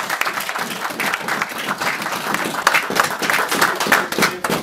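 A church congregation applauding after a prayer during a sermon, dense sustained clapping from many hands filling the room, fairly loud and continuous throughout.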